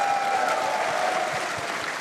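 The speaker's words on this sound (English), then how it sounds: "We're going to give a little round of applause for our character artists here as well who made them come to life." An audience at a live panel on Warframe art and animation at TennoCon 2025 claps in a steady, dense round of applause that stays loud throughout the short clip, with no voices over it.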